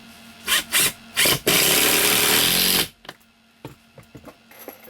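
Power drill driving 3-inch screws through a furring strip into a wooden stud, heard as three short close bursts, then a long loud continuous whirring drive, followed by faint scattered clicks and knocks.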